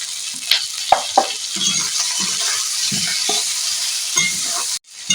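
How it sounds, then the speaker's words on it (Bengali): Onion, garlic and potato frying in a pan for a spicy ridge gourd dish, stirred with a utensil: a steady bright sizzle runs throughout, broken by irregular scraping and clinking strokes, close and fairly loud, then briefly cut off near the end. "এবারে পেঁয়াজ রসুন আলু ভালো করে আমি নেড়ে নিয়েছি"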